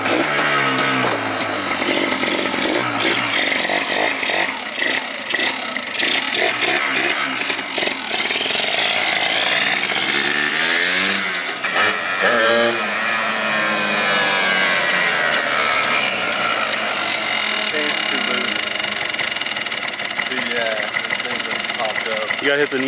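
A Yamaha Blaster 200 two-stroke ATV engine runs roughly, loud and close, with a raspy, uneven buzz and revs that rise and fall. Voices can be heard over the engine.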